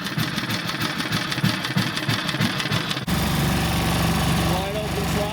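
A 1941 Lawson 2 1/2 HP four-stroke engine chugs with a rapid, even putter that jumps to a steady, louder roar partway through as it runs at wide open throttle, heard close with some voice over it.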